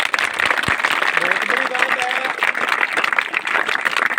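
At a village gathering for a cow shelter, a crowd claps steadily for a few seconds, with a voice briefly heard over the dense applause.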